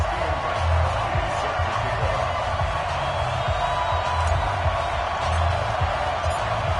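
Sold-out stadium crowd noise from a Madden NFL football game on PS4, Patriots against the Cowboys at Gillette Stadium, a steady roaring murmur with swells of cheering throughout.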